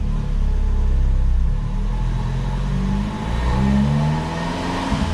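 Fiat 500 Abarth with a 1.4 turbo MultiAir engine on stock tune revving on a dyno, a loud sustained engine roar that climbs in pitch, dips briefly and rises again, close and continuous.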